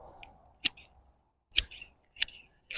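Pruning shears snip Austrian pine branches in three crisp, separate cuts, each a sharp close snap with a short ringing tail, spaced by brief quiet gaps.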